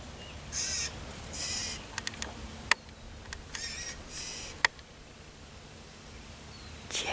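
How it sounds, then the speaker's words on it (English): Scrub jays call outdoors in short bursts of harsh, raspy notes, broken by a couple of sharp clicks over a low background hiss. "Are you Scrub Jays?"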